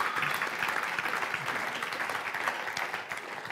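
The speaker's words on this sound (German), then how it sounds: "vielleicht können wir ihnen gerade klatschen" Audience at a German talk event clapping for the kitchen staff, a steady, moderately loud round of applause from a room full of people lasting the whole stretch.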